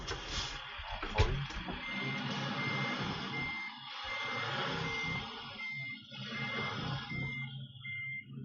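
A truck in Euro Truck Simulator 2 reverses with steady electronic backup beeps over its engine rumble, moderately loud and continuous, with no one talking.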